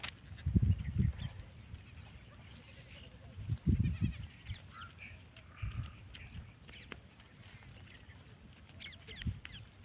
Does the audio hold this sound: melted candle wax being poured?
no